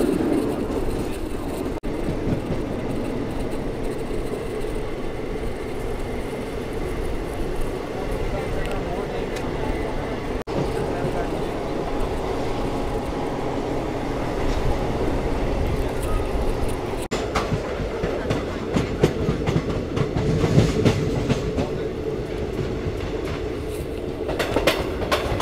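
Loud, steady rumble and clatter of the Shivamogga Town to Mysuru passenger train running, heard from inside a carriage, with rail clicks and some voices of people talking faintly over the noise.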